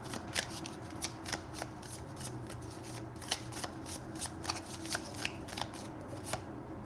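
A deck of chakra cards is shuffled by hand, with repeated crisp riffling flicks and soft card slaps in an irregular rhythm, close and moderately quiet.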